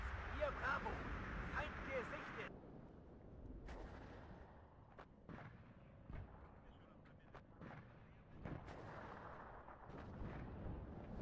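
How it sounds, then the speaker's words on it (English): Artillery fire in the video game Warno arrives as repeated deep booms and sharp blasts at irregular intervals over a steady low battlefield rumble, with a louder burst of noise at the start. "So here comes the artillery on the Strela."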